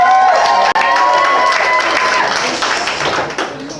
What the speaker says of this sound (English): Clap it up if you love Southern California.